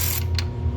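A quarter-inch drive ratchet turns an 8 mm bolt on a dipstick tube by the intake manifold of a 6.7 Ford diesel engine, giving a brief close mechanical clicking over a steady low hum.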